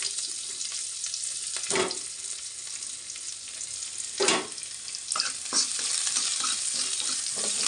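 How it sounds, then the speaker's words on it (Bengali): Steady sizzle of onions frying in a pan for chirer polao (poha), close and continuous, with periodic scraping stir strokes. "তারপরে আমি পেঁয়াজ দিয়ে দিচ্ছি।"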